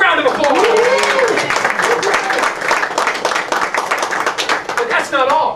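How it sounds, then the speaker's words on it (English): Audience applause at a magic show, with distinct hand claps, rises under excited voices, continuing for several seconds as people whoop and talk over it. "Give her a round of applause."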